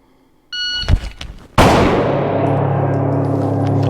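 A single pistol shot fired after a draw from 7 yards on a shooting range, preceded by a short electronic timer beep and rustle of the draw, then one loud sharp crack with a ringing, decaying echo.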